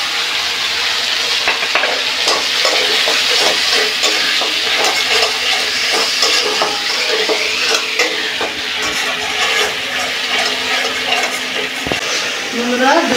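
Tomato paste added to a frying pan for doi potol, pointed gourd in yogurt, a loud continuous sizzle with repeated scraping and clinking of a spatula as it is stirred close by.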